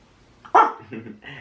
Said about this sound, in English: I don't understand this dog.